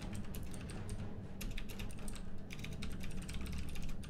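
Rapid clicking of fingers typing on a computer keyboard, quick irregular bursts of keystrokes with brief pauses, close and fairly quiet, with no voices.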